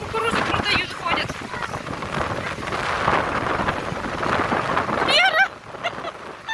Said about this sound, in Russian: Вот это ветер начался сильный